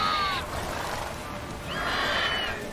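A horse in the video game Witcher 3 gives two whinnies, a shrill neigh at the start and another about halfway through, each falling in pitch, with faint background noise between.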